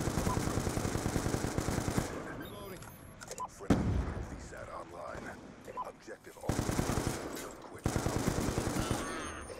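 Rapid automatic gunfire bursts rattle in the Black Ops 2 video game, loud repeated volleys broken by pauses, with a player talking excitedly between them.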